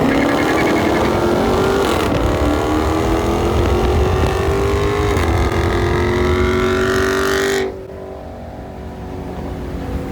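Cars with a 5.7L Hemi accelerate hard in a roll race, a loud, close engine roar climbing steadily in pitch for about eight seconds before dropping abruptly to a quieter, fading drone.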